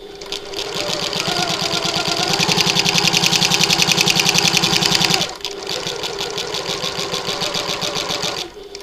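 A sewing machine stitches a button lock bag in a fast, steady mechanical run, pausing briefly partway before resuming at a regular stitch length, loud and close with no talking.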